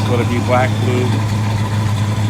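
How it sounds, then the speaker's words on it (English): A 1967 Pontiac Bonneville station wagon engine idles with a steady, even low hum under someone talking close by. "it fires right up, maintaining a pretty good idle right now"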